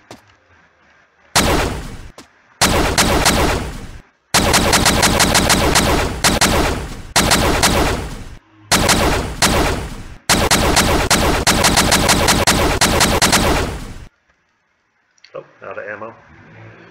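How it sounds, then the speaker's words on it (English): A chargeable gun in the shooter Covid 23 Test Labs firing long rapid bursts, loud and close, broken by short silent gaps as it recharges, with a brief quieter sound at the end. "Oh, it's like a chargeable gun."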